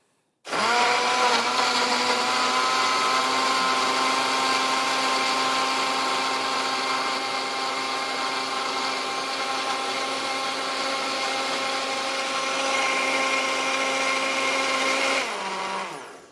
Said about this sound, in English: we're going to turn it on and let it blend.